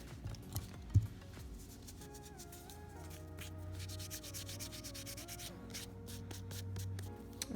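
Fingers and nails are rubbed briskly to clear off acetone residue after soaking off dip powder, making a soft, close, continuous scrubbing and rubbing sound with a faint tone in the background.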